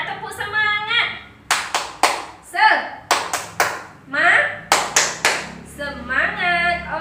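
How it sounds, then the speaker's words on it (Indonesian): A sixth-grade class does a rhythmic spirit clap at the start of a lesson: sharp patterned bursts of many small hands clapping in unison, alternating with children's voices chanting in between. "Tepuk semangat."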